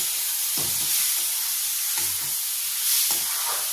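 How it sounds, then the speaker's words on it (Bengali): Fried prawns stirred into masala in a pan on low flame send up a loud, constant sizzle, broken by three soft scrapes of stirring. "এবার গ্যাসের ফ্লেমটাকে আমি লো করে দিলাম আর ভেজে রাখা চিংড়ি মাছগুলোকে আমি দিয়ে দিচ্ছি।"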